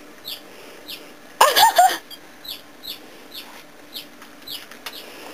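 Several chickens cluck indoors with soft, scattered calls, then a brief loud flurry of squawks and wing flapping before the clucking settles again.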